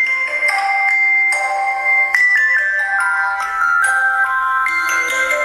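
The Rain Dance ringtone plays at full volume through the loudspeaker of an Oukitel C8 smartphone, a bright melodic sequence of chiming electronic notes running continuously and loud, with no voices over it.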